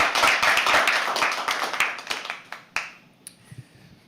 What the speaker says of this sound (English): So can we please have a round of applause?